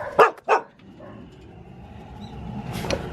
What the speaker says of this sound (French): Regarde, il est pas trop beau celui-là de chien.